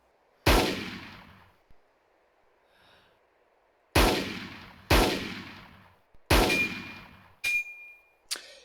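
Loud single M1 Garand rifle shots in ArmA 3, a WWII-era game, five sharp reports with long decaying tails spaced irregularly, followed by a bright metallic ping and a clank.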